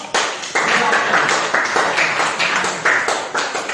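A classroom of students claps for a group, a loud, close, somewhat uneven burst of applause with rhythmic pulses and voices mixed in.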